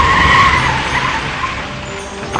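A vehicle in a Tamil film scene pulls away with a loud, close tyre squeal and revving engine that fades slightly as it drives off.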